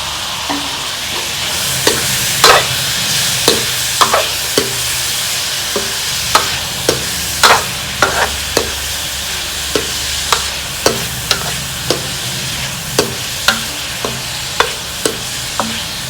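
Onion, garlic and masala fry in a pan with a steady sizzle while a utensil stirs and scrapes, leaving regular sharp clicks roughly every second.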